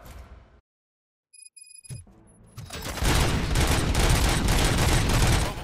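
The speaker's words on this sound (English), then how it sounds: "Gunshots? What's going on?" Robots in the RoboCop Rogue City video game open fire after a brief silence and a thud, building into a loud, sustained barrage of rapid gunshots that continues to the end.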